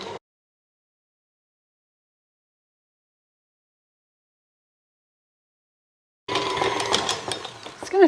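After a long stretch of silence, a stand mixer with a dough hook starts kneading spelt fruit-and-nut dough, giving off a close mechanical whirring and knocking for the last couple of seconds.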